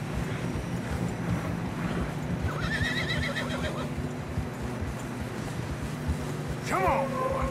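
In Red Dead Redemption 2, a horse whinnies twice on a snowy mountain amid a steady background of rushing wind and soft hoof thuds, with a voice speaking briefly in the mix.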